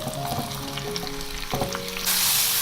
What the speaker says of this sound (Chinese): 这样子慢慢炒，把草菇跟这个胡萝卜呢炒出香味来